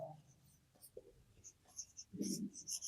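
Pen writing on paper during a maths lesson, soft scratchy strokes in short bursts, faint and close, with quiet speech mixed in.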